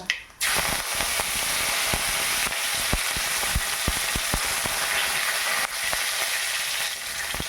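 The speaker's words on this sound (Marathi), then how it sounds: "आता चमचा मोहरी टाकू, अर्धा चमचा जिरे टाकू, कढीपत्ता" Mustard seeds, cumin and curry leaves hit hot oil for a sprouted moth bean curry, bursting into a loud, continuous sizzle. Sharp crackles and pops spatter through it close up.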